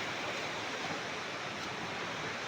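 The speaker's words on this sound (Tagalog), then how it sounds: "Guys, ito po yung ilog, oh." A river swollen by flooding after a typhoon rushes past in a steady, dense broadband roar, close and continuous with no pauses or talk.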